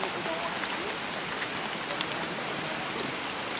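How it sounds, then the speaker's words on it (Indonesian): Rain pours down beside rice fields at the foot of a mountain, a dense, even hiss with scattered close drops and no voices. "Karena ini teh hujan, jadi kita itu harus buru-buru."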